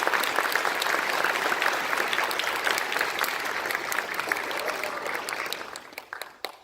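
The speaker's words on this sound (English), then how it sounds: "please give a big round of applause for the community band earlier" An audience at a college concert band performance gives a round of applause for the community band, a full steady wash of clapping that gradually thins out over several seconds.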